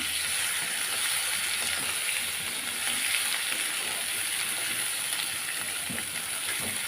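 Baby potatoes roasting with masala in a pan get a light stir after being covered, giving a continuous close sizzle with faint scraping underneath, even and unbroken throughout.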